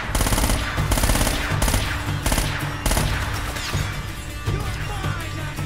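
Rapid automatic gunfire from Uncharted: Drake's Fortune Remastered, loud and close, with dense bursts of shots and crashing impacts that thin out toward the end. No one speaks.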